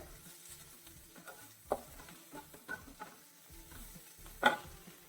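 Egg bhurji with cumin powder is stirred in a pan: soft, close scraping strokes over a faint sizzle, with one sharper clink near the end and no voices.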